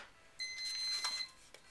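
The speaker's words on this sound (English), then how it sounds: "it's ready because it made a beep and my red light stopped flashing" An electronic crafting device gives a single steady, clear electronic beep lasting under a second to signal it is ready, set against quiet room background.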